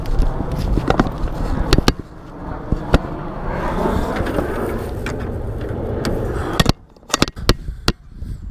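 Scrap electrical cords being cut by hand during hard rubbish scrap picking on the street, a run of sharp snipping clicks and rustling over steady outdoor traffic rumble, with a quieter stretch and scattered clicks near the end.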